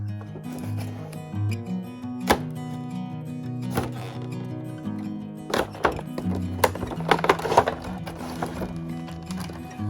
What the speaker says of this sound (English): let's get them open and see what's inside